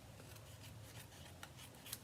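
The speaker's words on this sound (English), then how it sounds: "then we can just take our scissors here and cut" Scissors snip through paper while a card is being trimmed at a craft table, producing faint, quiet cuts and slight rustles with no voices.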